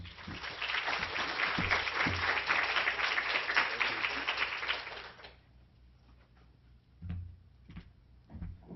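An audience at a Johns Hopkins School of Public Health admitted-student event claps to welcome a speaker: a dense round of applause for about five seconds that stops abruptly, followed by quiet room noise and a few knocks and shuffles.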